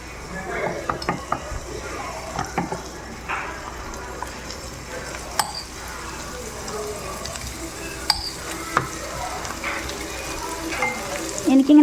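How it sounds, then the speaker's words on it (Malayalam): Paneer pieces frying in hot oil give a steady crackling sizzle, with scattered clicks and clatter from stirring or a utensil against the pan. No one speaks. "നമുക്ക് എണ്ണയിലൊന്ന് ഫ്രൈ ചെയ്തിട്ട് എടുക്കാം"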